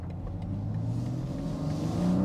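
A remapped BMW M3 Competition xDrive engine hums low and then climbs steadily in pitch as it revs, a deep rumble swelling louder toward the end, heard from inside the car.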